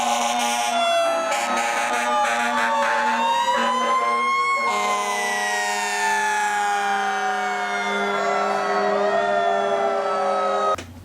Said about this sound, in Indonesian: kita sekarang punya truk pemadam kebakaran teman-teman